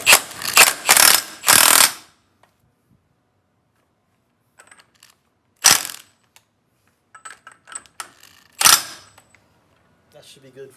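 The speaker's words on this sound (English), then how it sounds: "let's tighten this nut up here pretty good" A wrench ratchets on the axle nut of a 1965 VW Beetle in short, loud bursts of rapid clicking with long quiet gaps between them, close by.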